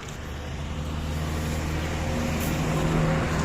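Steady low car engine hum and road rumble from inside a moving car on a trip around Rajgir, Bihar, continuous and moderately loud with no talk.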